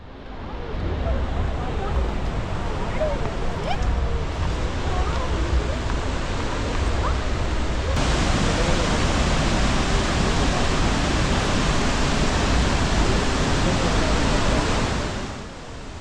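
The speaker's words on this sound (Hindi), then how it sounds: "आवाज़ बहुत तेज़ आती है जब इतने बड़े अमाउंट में पानी इतनी हाइट से नीचे गिरता है" Gaganachukki waterfall on the Kaveri river, a massive falls dropping a huge volume of water from great height: a steady, loud roar of broadband rushing water that swells slightly louder midway and continues unbroken, with no voices.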